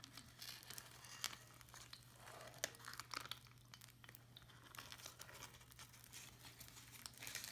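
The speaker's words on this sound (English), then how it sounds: "Taking the parchment paper" Parchment paper peeled away from a soft Japanese souffle pancake, a faint close crinkling and soft tearing with scattered light crackles over a steady low hum.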